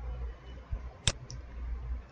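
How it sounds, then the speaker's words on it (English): A computer mouse clicked while working in MS Access, a faint close tap followed by a sharp click and a quieter second click over low background hum. "just double click on this"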